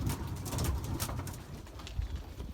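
Belgian racing pigeons coo inside their loft, soft overlapping burbling calls from several birds close by, with light rustling and wing movement in the background.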